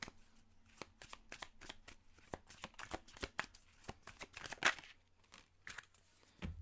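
Oracle cards from a messenger deck shuffled for a card reading: a rapid run of crisp, close flicking riffles with brief pauses, fairly quiet and continuous for several seconds.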